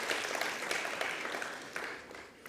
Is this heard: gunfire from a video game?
no